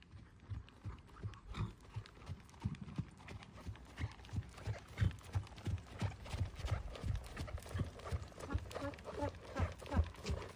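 A horse trots over ground poles in a steady rhythmic clip-clop of hooves, fairly close, with soft footfalls repeating evenly and a faint voice in the background.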